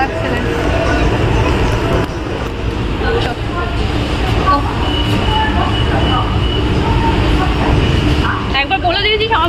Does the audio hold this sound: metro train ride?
yes